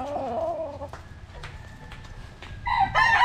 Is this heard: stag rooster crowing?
yes